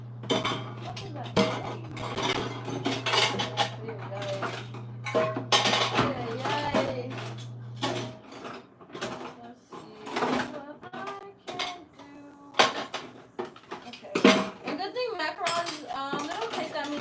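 Dishes, pots and cutlery clink and clatter in a home kitchen during a live macaron cooking session, with irregular close knocks and scrapes and a steady low hum through the first half.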